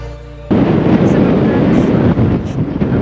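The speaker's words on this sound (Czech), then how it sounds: "Hodně to tady fouká" Strong wind near Hejnice in the Czech Republic buffets the microphone in loud, low rumbling gusts after a brief quieter start, with a few faint high chirps above.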